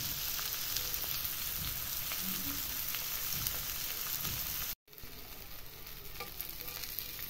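Chicken pieces fry on a tawa over a high flame, giving a dense, continuous sizzle with light crackles and stirring scrapes close by, broken by a split-second gap before the sizzling resumes.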